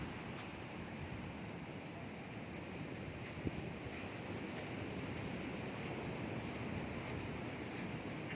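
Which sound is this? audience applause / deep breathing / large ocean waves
large ocean waves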